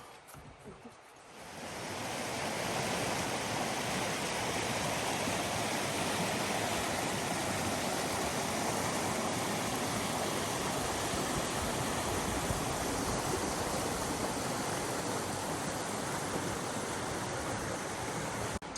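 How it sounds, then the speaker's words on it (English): Waterfall at the end of a portage in Algonquin Park, heard as a loud, steady, broadband rushing roar that swells in after a brief quieter start and continues unbroken with no talking. "there's a cool waterfall, so that's really actually fun"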